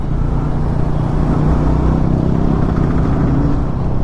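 Motorcycles and cars crowd a Bangalore road, their engines making a loud, constant nearby drone with occasional vehicles passing.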